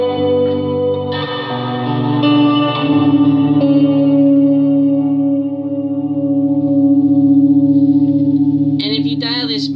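Guitar played through a Boss RV6 reverb pedal at about a 75% wet mix, chords ringing out into a long, loud, washing reverb tail that sustains and swells before a brief new strum at the end.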